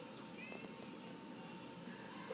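Domestic shorthair cat meowing, a short faint meow or two in a quiet room with a low steady background hum.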